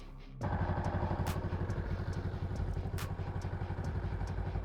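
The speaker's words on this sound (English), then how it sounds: "I will run the bike and then check it" A motorbike engine fires up after a brief quiet moment and settles into a steady, loud, close-up idle with a rapid rhythmic thumping beat.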